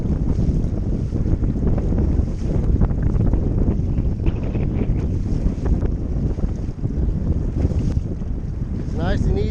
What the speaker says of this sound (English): Because the wind just pick up a little bit and these waters get crazy.